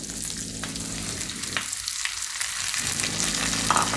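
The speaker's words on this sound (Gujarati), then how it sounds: "હવે આપણે એમાં ટમેટા નાખી દઈશું" Chopped tomatoes go into a pan of sizzling onions for an onion-tomato gravy curry, giving a steady close frying hiss that dips briefly, then resumes with stirring.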